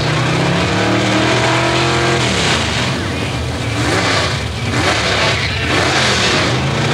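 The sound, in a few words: Chevrolet Chevelle drag race car engine revving at the line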